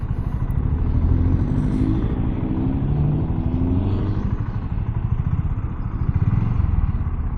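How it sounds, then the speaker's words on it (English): A BSA Goldstar 650 motorcycle engine runs steadily on a test ride, a close, continuous rhythmic rumble with some mechanical clatter and no talking. "That's a nice engine."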